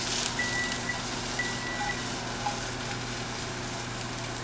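Onions sizzling in a pan for a salmon meal, a steady close hiss with faint high beeping tones drifting in the background, no one speaking.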